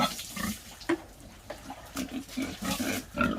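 Pigs grunting and snorting repeatedly at close range, a busy run of short low grunts with some splashing or clatter in the background.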